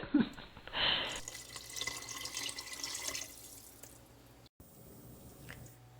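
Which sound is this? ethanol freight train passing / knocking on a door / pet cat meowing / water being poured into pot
water being poured into pot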